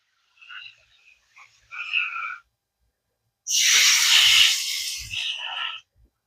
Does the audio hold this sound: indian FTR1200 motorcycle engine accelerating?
no